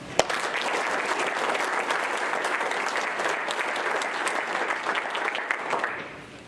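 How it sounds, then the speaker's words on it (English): Sustained applause from a school board meeting audience, a dense patter of many hands at moderate level with a few sharper claps, tapering off at the end. "So one final round of applause."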